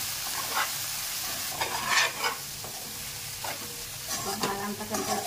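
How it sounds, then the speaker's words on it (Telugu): Tomatoes are mashed and stirred in a sizzling pan for Bendakai Pulusu, okra tamarind stew, a continuous frying hiss broken by repeated scraping strokes of the spoon against the pan, close and fairly loud. "టమాటాలు ఇలా మెత్తగా నలిపేసుకుని మొత్తం ఒకసారి కలుపుకోవాలి"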